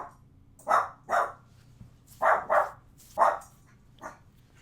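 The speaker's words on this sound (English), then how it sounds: "You pissed my dog off now." A single dog barks about six times in short, separate bursts, fairly close and moderately loud, with pauses between barks and a faint low hum in the background.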